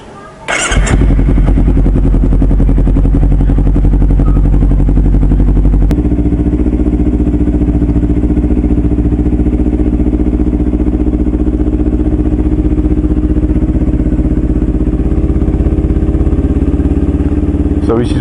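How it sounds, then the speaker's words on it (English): Kawasaki Versys X 250 with a Norifumi slip-on exhaust and no dB killer, cold-started: a sharp crank and catch, then a loud, steady, throaty idle close by that runs continuously without pause. "this exhaust, the Norifumi Indonesian Brand slip-on exhaust"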